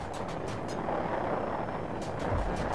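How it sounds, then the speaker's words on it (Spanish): A helicopter's steady rotor drone hums at a distance through the combat soundscape of the video game Battlefield 2042, with a few faint sharp clicks. "Hay un helicóptero allá atrás."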